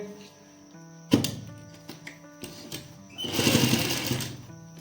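A sewing machine starting to stitch a belt onto an Afghani salwar, a close mechanical whir in short bursts with a louder steady run near the end, with faint background sounds.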